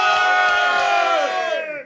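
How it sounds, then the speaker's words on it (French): A crowd roars together in a single sustained cheer for the team, loud and close, a massed chorus of shouting voices that holds steady and then fades out at the end. "Faites du bruit pour l'équipe"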